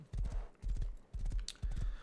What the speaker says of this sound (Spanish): ¡Arre, caballo loco!